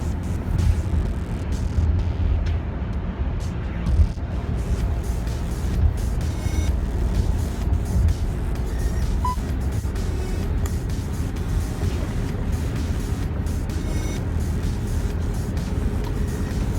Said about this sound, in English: you hear other sounds, like the wheel noise from cars driving from the opposite side